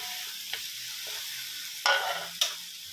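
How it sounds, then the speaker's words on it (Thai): Crispy fried catfish being stir-fried dry in a wok, a steady broadband sizzle with a few sharp scraping clatters of the spatula, close and alone without talk. "ผัดแบบแห้งๆนะครับสำหรับปลาดุกทอดกรอบนะครับ"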